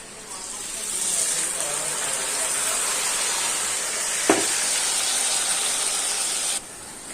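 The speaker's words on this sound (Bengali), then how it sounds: "পেঁপে আলু ভাজা হয়ে গেছে, তো হলুদ দিয়ে দিয়ে, পেঁপে একটুখানি ছিল দিয়ে দিলাম" Papaya and potato frying in a pan with turmeric and spices, giving a steady broadband hiss that runs through the clip and carries one brief clatter partway in.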